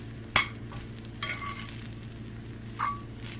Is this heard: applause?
no